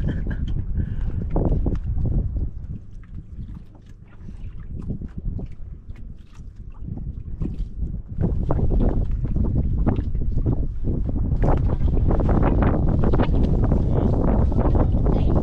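Strong wind buffets and roars steadily, rumbling low and growing louder toward the end, with gusts slapping across the microphone.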